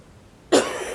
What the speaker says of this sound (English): Man, I'm coughing today a lot.